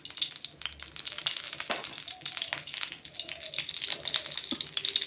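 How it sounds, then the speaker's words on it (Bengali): Hot oil in a wok (karai) for a spice tempering gives a steady, close crackling sizzle with sharp pops and spits that runs for the whole stretch, with no talking. "ফোড়নের জন্য এখানে আমি একটা কড়াই বসিয়ে দিয়েছি, তার মধ্যে পরিমাণ মতো তেল দিয়ে দিলাম"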